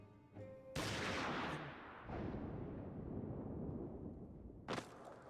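A single loud gunshot rings out in Final Fantasy XIV Stormblood, a sharp blast trailing into a long rumbling echo, followed by a fainter second report near the end.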